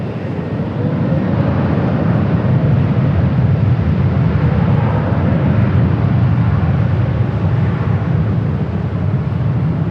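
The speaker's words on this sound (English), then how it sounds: "This flight heading to Paris on the 787-9 Dreamliner" A Boeing 787-9 Dreamliner bound for Paris rumbles loudly and steadily at LAX, a sustained broadband jet roar with no speech.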